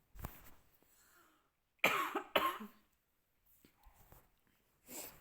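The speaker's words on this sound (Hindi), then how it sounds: "ये खांसी भी एक बार उठने लग जाओ भाई, फिर रुकने का नाम नहीं लेती" Several sharp coughs come in a quick cluster, followed by a few fainter throat sounds in an otherwise quiet room.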